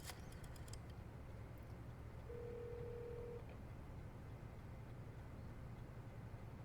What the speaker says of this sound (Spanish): Ahora llamando al otro teléfono.